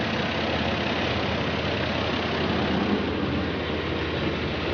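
A car engine idles steadily after a power steering stop-leak treatment, a smooth continuous hum heard close up with no talk over it.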